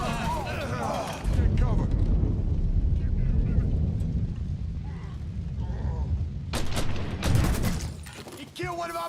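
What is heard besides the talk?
grenade explosion and gunfire in the video game Mafia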